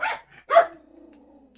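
A dog on a horse farm gives two sharp barks close by, the second trailing into a short low whine.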